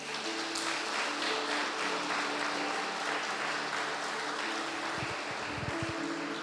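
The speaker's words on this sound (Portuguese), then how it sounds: "Você pode dar um aplauso ao Senhor?" A church congregation at a Sunday celebration service applauds, a dense, sustained wash of many hands clapping that fills the room evenly for several seconds, with a few low thumps near the end.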